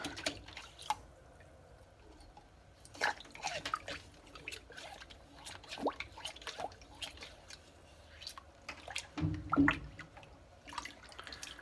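A cleaning snake is pushed through a trumpet slide in water, making faint, close drips, trickles and soft squishy sloshes in scattered bursts, with a heavier splash near the end.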